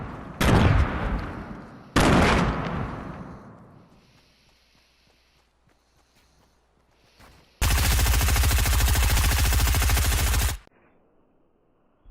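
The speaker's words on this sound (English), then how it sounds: "I'm about to get shot up real quick" Gunfire in the video game Fortnite: two loud shotgun-like blasts with decaying tails, then a quiet stretch, then about three seconds of sustained rapid automatic fire that stops abruptly.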